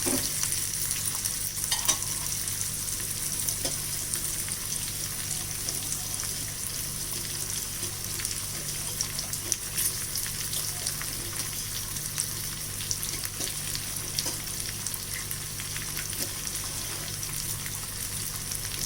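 Raw banana pieces with curry leaves frying in a pan, a constant close sizzle with occasional light stirring scrapes, steady and unbroken throughout with no one speaking.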